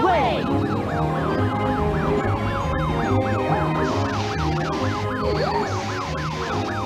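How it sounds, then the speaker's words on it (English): Cartoon fire truck sirens wail together in rapid, rising and falling cycles, loud and close over a dense animated soundtrack with rumbling engines. "The sirens say,"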